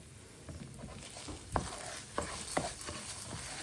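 Quiet stirring in a pot, with soft scraping and a few distinct clinks of a utensil against the side, spaced irregularly.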